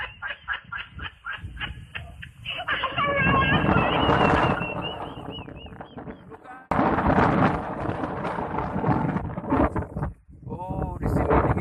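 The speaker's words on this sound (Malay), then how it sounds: "di sini dingin kali guys. Angin kencang." Strong cold wind gusts buffet the microphone in Takengon, loud rumbling bursts of wind noise with a person talking in between.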